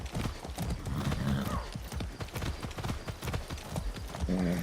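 A horse in Far Cry 6 clip-clops along at a brisk, steady trot, the close hooves lively and busy, with a brief whinny and faint game sounds underneath.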